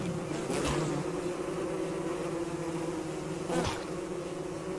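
Angry bees in the game Don't Starve Together buzz in a steady, continuous drone, with two brief louder swells as bees pass close.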